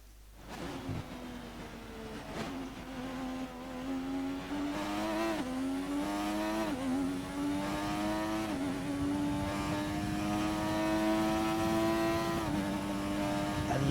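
A 1988 McLaren MP4/4 Formula One car in the F1 2020 racing game roars loudly and continuously, its engine pitch climbing through repeated gear-shift steps with no talk.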